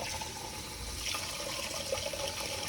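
Warm water runs steadily from a kitchen tap in a continuous, close hiss and splash, with slight shifts in flow and no talking.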